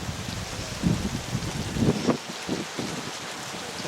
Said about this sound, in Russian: дождь идет проливной